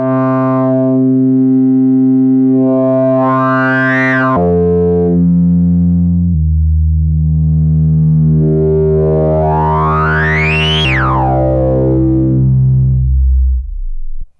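A loud, resonant bass synthesizer with its resonance turned to maximum plays sustained low notes while a squelchy filter sweeps up and down, whistling and ringing at the peaks.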